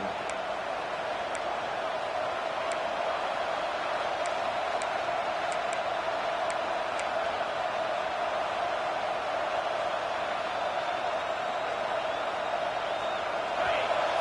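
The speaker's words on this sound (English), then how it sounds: "And here comes the noise. This crowd is trying to inspire this defense to make a big red zone stop." A college football stadium crowd, Georgia hosting USC, roars in a steady, dense wash of noise during a defensive red-zone stand, unbroken for the whole stretch with faint higher ticks on top.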